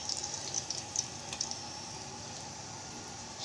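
Fish frying in a pan with homemade masala, a steady, fairly faint sizzle with small crackles and pops scattered through it, no voices.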